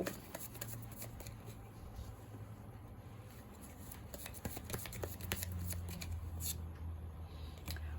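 Tarot cards being shuffled by hand: soft, quick papery riffles and flicks repeating quietly and close, with a low steady hum underneath.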